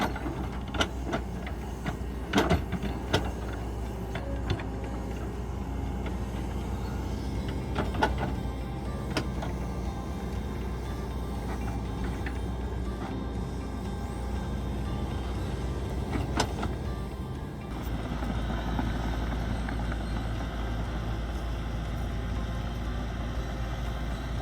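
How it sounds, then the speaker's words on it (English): A large digger drives backwards and forwards over freshly spread earth on a field beside a willow tree, flattening and compacting it; a steady, continuous engine and track rumble runs throughout with occasional clanks and knocks. "best way to flatten out the earth and compact it down is simply by driving the digger backwards and forwards across it"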